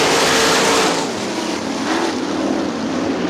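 Sprint cars roar around a dirt track at the start of a heat race, a dense, loud wash of engine noise from the field with no clear single car standing out.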